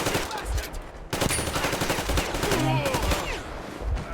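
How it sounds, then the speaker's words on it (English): Gunfire in the video game Metro Exodus during a foggy firefight, rapid bursts of automatic shots in quick stuttering runs with a brief gap, loud and close, with a voice faintly beneath. "Is he shooting me through that?"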